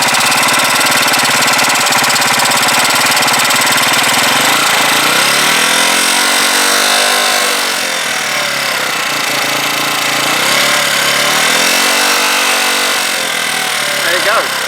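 A Huoniao HN125 motorcycle engine with an air leak runs loud and close, its idle rising and dipping twice in slow surges, with a rough, knocking, uneven beat throughout.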